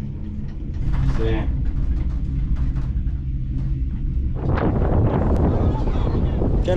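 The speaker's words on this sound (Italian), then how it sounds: "Che è lo stesso vento che c'era a Capo Nord." Wind blows across volcanic lava slopes on Mount Etna, a steady loud rumbling roar that buffets the microphone throughout and grows rougher and gustier toward the end.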